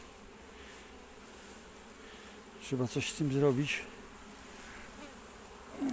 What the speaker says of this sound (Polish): Mnóstwo tej pszczoły tu leży.